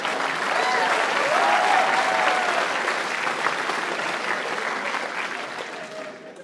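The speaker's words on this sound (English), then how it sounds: "Never thought I'd get a round of applause for abusing a child." An audience at a stand-up comedy show breaks into loud, sustained applause that swells, then gradually thins and fades over several seconds.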